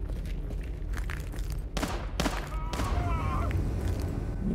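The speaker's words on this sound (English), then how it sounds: "Gunshots. Someone's still alive." Muffled gunshots ring out in a sewer level of the video game Daymare: 1998: three or four sharp bursts spaced over a couple of seconds, fairly distant and quiet, over a low rumbling ambience.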